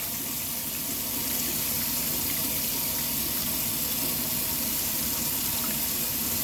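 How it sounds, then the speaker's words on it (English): Hot tap water runs steadily into a sink while a tallow, charcoal and clay soap bar is rinsed, giving a continuous, close hiss and splash with no talking. "I'm going to rinse that off. It's a little bit hot."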